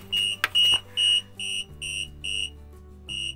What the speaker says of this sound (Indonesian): Kalau baterainya masih bagus, dia tuh bakal bunyi ya guys ya, kalau si sensornya terlepas.